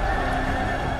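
A horse whinnies loudly and close with hoofbeats thudding beneath, one short dense burst of sound evoking Xiongnu cavalry.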